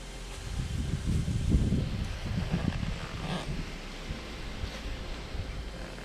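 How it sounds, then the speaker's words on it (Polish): Strong wind on a fishing boat on a heavy, gusty day, a steady low roar and buffeting against the microphone, loudest in the first seconds and easing slightly, with no talk. "Wiatr miał siadać."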